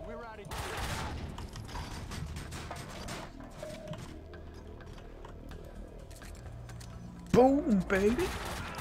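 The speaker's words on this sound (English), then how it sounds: "if you keep shooting when you hit the floor, Max lies there until you stop shooting" Gunfire in the Max Payne 2 video game: dense bursts of shots with sharp transients across the first few seconds, a quieter stretch of game sound, then a loud burst near the end.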